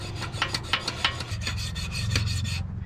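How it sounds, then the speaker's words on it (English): Sandpaper rubbed by hand over an old metal part from a 1979 Chevy LUV pickup to remove deep scratches: a run of rapid rasping strokes, close and fairly loud, with no voices. "It's taken quite a bit of sanding to get that pretty well gone."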